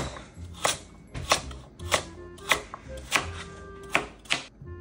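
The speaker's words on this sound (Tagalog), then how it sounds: "Gayatan ko na ito ng carrots." Knife chopping carrots on a cutting board, a steady series of sharp thunks roughly every half second, close and clear with no talking.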